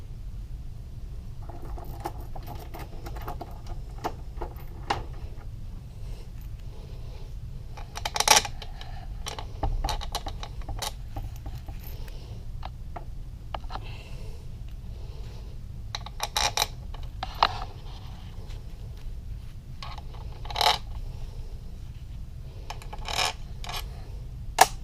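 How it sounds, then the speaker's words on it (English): Metal bolts are set into a 2015 Yamaha YZ250 engine, giving faint scattered clinks and taps against a steady low hum, with a few sharper metallic ticks spaced through the quiet stretch. "Now we can put our bolts in."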